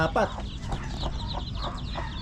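A hen and a brood of fourteen chicks cluck and cheep close by, with short overlapping calls on a farm.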